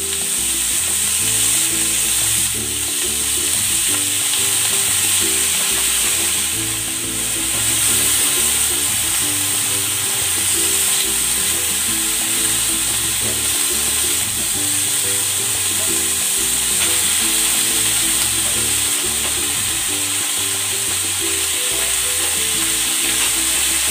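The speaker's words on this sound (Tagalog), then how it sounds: "Maglalagay ako ng cooking oil. I-sear ko muna itong pork." Pork searing in hot cooking oil in a pan, a loud continuous sizzle and crackle close by with occasional stirring, no voices.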